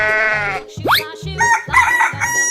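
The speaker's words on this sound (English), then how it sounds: "Chicken." A rooster crows, a rising, drawn-out cock-a-doodle-doo near the start, followed by several short rhythmic clucks and bleat-like calls, close and loud.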